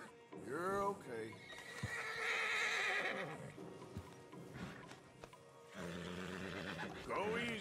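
A stallion in Red Dead Redemption 2 whinnies several times, loud close neighs with hoofbeats and game sounds between them, and someone speaks briefly in the gaps.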